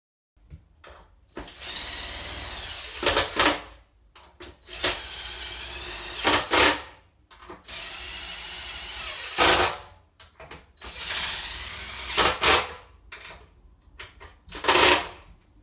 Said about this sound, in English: So we're going to put these 4 bolts in, screw them in however they go in somehow.